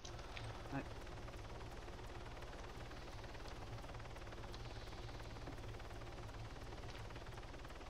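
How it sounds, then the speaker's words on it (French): Game helicopter flying overhead, a faint steady rotor drone with low throbbing beneath, continuous throughout with a few brief clicks on top. "Je dois survoler avec mon hélico là pour vous dire où ce qu'il est"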